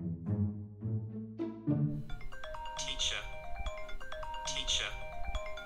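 A mobile phone rings with an incoming call, a melodic ringtone of repeating bright tones that continues steadily, while people talk over it.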